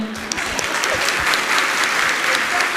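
An audience at a Jain monk's spiritual discourse claps in dense, steady applause that holds at an even level throughout, with no talking over it.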